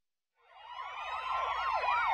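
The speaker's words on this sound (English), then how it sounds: "Sounds like police sirens." A police siren in the South Park cartoon wails and yelps, rising and falling in quick sweeping cycles, growing louder as it approaches; no voices.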